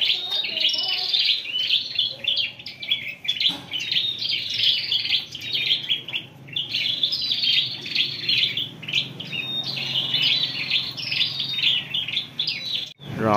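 An oriental magpie-robin sings loud and close in repeated bright, warbling phrases with short pauses between them, and a faint low murmur sits underneath.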